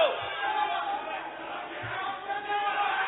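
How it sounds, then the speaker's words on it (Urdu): Members of the National Assembly chant slogans in a crowded chamber, a continuous roar of many overlapping voices that swells and fades, heard in muffled, narrow-band sound with a few louder thumps. "آپس میں نعرے بازی نہ لگائیں"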